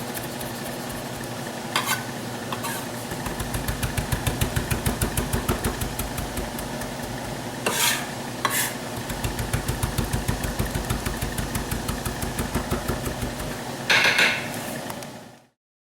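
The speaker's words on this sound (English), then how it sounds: "Using the titanium knife, chop this fresh" A titanium knife chops fresh oregano on a board in a fast, steady run of rapid taps, close and crisp, with a few brief pauses and bursts of scraping before stopping abruptly.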